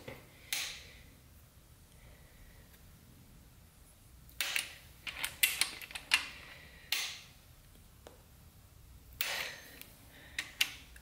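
A torque wrench clicks during assembly of an LQ4 engine on the bench. Sharp mechanical clicks and ratcheting come in short clusters with quiet gaps between them, close and fairly loud.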